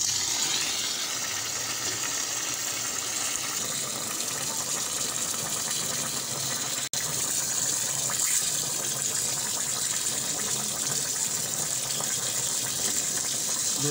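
Ten kilograms of rice rinsed in water for a commercial chana pulao, a loud continuous gush of running water pouring steadily throughout, close by.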